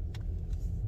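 A bus passes on a city street near shopping stores, a brief low engine rumble swelling and fading over about a second, fairly close.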